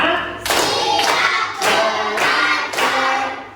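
A class of students claps out a counted clap routine during an Islamic education teaching practice lesson: five distinct loud group clap bursts in an even, steady beat, close and clear, with no talking.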